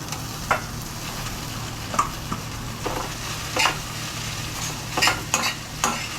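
Poha being stirred in a hot pan for kanda poha, a continuous sizzle with intermittent spatula scrapes and taps against the metal, close by and without speech.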